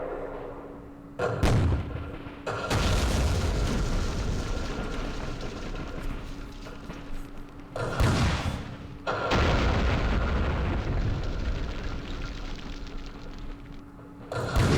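Artillery guns firing in the wargame Campaign Series Vietnam at Dien Bien Phu, loud booming shots arriving in three separate heavy blasts, each followed by a long rumbling roar of shelling.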